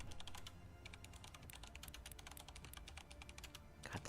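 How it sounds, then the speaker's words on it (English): Rapid, clattering keystrokes on a keyboard in a video game, continuous and fairly close, with uneven rhythm and no voices. "God, the typing noises."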